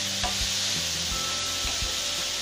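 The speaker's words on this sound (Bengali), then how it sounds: "গাজরগুলো দিয়ে আমি 10 থেকে 15 মিনিট গাজরগুলো আমি ভেজে নেব।" Grated carrots frying in a pan for carrot halwa, a steady close sizzle with intermittent scraping stirs of a spoon across the pan, no voices.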